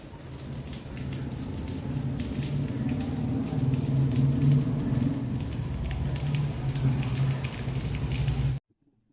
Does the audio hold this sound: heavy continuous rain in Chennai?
yes